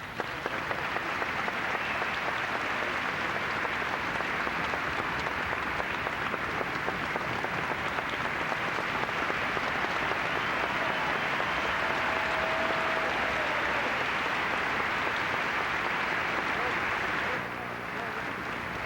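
A tennis crowd at the 1984 Memphis final between Jimmy Connors and Henri Leconte breaks into dense, sustained applause that holds steady for about seventeen seconds before cutting off abruptly.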